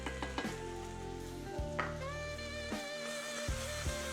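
Garlic fries quietly in a pot for a cabbage and meat dish, a soft steady sizzle broken by regular clinks and scrapes of a spoon stirring.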